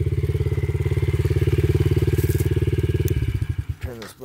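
A 2008 Yamaha TTR50 pit bike's small single-cylinder engine runs at a steady, rapid putter, loud and close, then sputters and dies as it is shut off.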